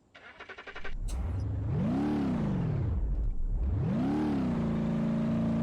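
A Scania truck hauling a 30-ton log trailer in BeamNG.drive strains uphill. After some clicking, a simulated engine surges in two long revving swells, with its pitch climbing and falling, then settles into a steady drone. The sound is loud and close.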